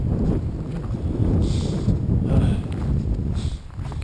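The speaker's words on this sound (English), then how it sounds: "It's windy this morning." Strong gusts buffet the microphone during a cold morning walk beside a large lake in Maine, a loud rumbling roar that swells and eases throughout.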